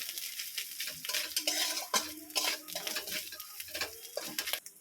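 Grated coconut with green chili stirred in hot oil in a pan for a stuffing masala, irregular scraping and clinking of a spatula against the pan over a soft sizzle, close and alone without talk.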